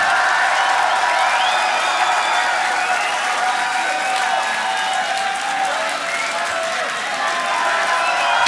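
Crowd applause and cheering fill a beatbox battle venue at the Grand Beatbox Battle 2019 quarterfinal, a steady dense roar of clapping and shouts sustained throughout without letup.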